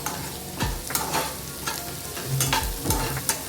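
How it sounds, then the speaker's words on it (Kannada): Chopped onion, ginger and green chilli fry in hot oil with a soft continuous sizzle, broken by repeated scraping strokes of a spatula stirring the pan. "ಈಗ ಕಟ್ ಮಾಡಿರುವಂಥ ಈರುಳ್ಳಿ ಹಾಕಿ ಚೆನ್ನಾಗಿ ಫ್ರೈ ಮಾಡ್ಕೊಳ್ಳಿ."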